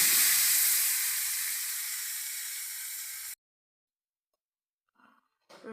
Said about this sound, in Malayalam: നല്ല തിളച്ച് വരുന്നുണ്ട് കേട്ടോ